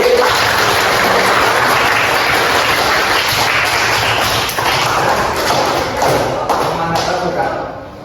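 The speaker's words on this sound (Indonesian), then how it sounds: "Tepuk tangan sekali lagi." Classroom applause after a lesson, a steady dense clatter of clapping hands that stays loud throughout and tapers slightly toward the end.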